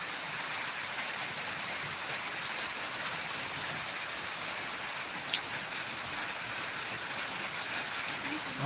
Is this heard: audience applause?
no